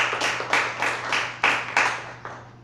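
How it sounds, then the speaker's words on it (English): Applause rings out from a modest audience at an open mic event, a short run of clapping in repeated swells that fade toward the end, with no talking over it. "Another round of applause for Daria."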